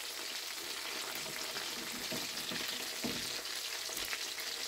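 Tilapia pieces fry in oil in a pan, giving a steady, close hiss of sizzling with faint crackles and occasional small pops throughout.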